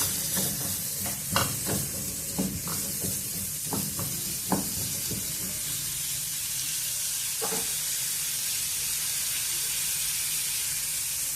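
Small chopped radish pieces sauté in a hot pan with a steady sizzling hiss, a few spoon clinks and stirs early on, then continuous frying alone, close by with no voices.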